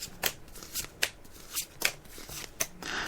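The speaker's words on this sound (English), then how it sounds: "I'm just shuffling the cards now" A deck of tarot cards is riffled and shuffled by hand in repeated quick bursts, each a crisp flutter of card edges, close and fairly quiet with no talking.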